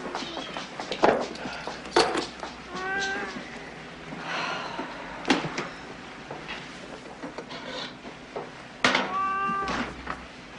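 A cat meows several times close by, short rising and falling cries spread across a quiet indoor scene with faint shuffling and soft handling noises.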